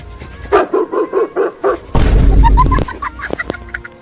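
A cartoon dog barks in a quick string of about six loud, evenly spaced yaps, followed by a heavy boom and rumble, then scattered squeaky cartoon effects.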